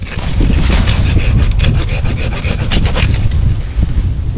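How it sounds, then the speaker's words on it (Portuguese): A hand saw rasps through olive tree shoots in quick, regular back-and-forth strokes, close and loud, with some wind buffeting the microphone. "Vamos pegar no serrote"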